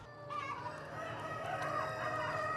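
Chickens and a rooster at an eco-friendly poultry farm, with a continuous din of clucking and crowing from many birds close by, and no one speaking over it.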